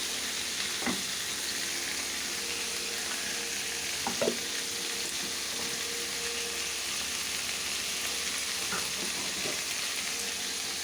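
Ginger garlic paste sautés in a pan, making a constant close sizzle. Occasional soft scrapes and taps from stirring sound through it, and no voices are heard.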